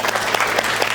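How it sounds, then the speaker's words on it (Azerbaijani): A studio audience applauds in a brief burst of dense, steady clapping with crowd noise, heard close and loud. "Vüqar qardaşımızı alqışlayaq."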